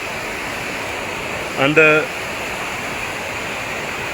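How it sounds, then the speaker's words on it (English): A river in deep bush flows as a steady broadband rush of moving water, fairly close, with a brief spoken word cutting in near the middle. "This is a river right here"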